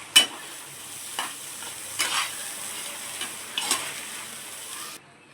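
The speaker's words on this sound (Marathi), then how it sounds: "तर आता हे छान आपण हलवून घेऊया." Moong sprout curry with red chilli powder being stirred in a pan, a faint sizzle beneath several distinct spoon scrapes spaced about a second apart, close up, then cutting to silence.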